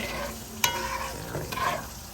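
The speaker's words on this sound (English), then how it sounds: "Stirring it up." Dungeness crab curry is stirred in a sizzling pan, with soft scraping strokes and two sharper utensil clinks against the pan over a quiet, steady frying hiss, with no voices.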